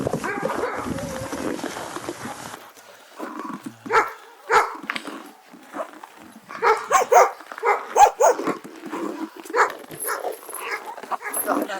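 Hunting laika dogs at a kennel bark and yip in bursts, several close barks clustering in the second half, with a voice talking over the start.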